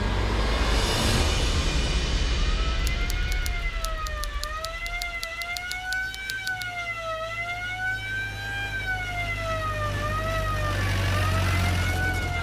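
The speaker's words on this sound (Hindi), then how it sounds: "पुलिस की गाड़ी हमको ढूंढते रहेगी और जब्बार इनके हाथ कभी ना आएगा" A police siren wails up and down continuously over a heavy engine rumble, loud and close, with a burst of rapid electronic yelping early on.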